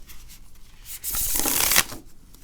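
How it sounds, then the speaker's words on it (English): A brief riffle of a tarot card deck being shuffled, a soft flutter that swells to a crisp rush for under a second, then stops. "I'm just going to give it a little shuffle."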